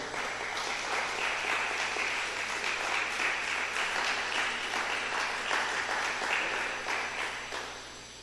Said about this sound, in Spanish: ¿Le das un aplauso al Señor, hermano?